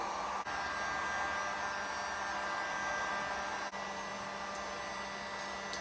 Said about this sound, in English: So we're gonna take the heat gun here and do pretty much a similar idea.